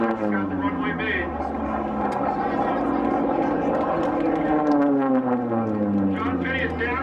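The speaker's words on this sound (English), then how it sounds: "John Finney's lined up with runway 4 out there. Still a lot of smoke coming out. He's got the runway made." A smoking racing airplane drones steadily as it comes in to land on the runway at the Reno air races, its engine tone sliding gently in pitch, heard under continuous commentary over a radio.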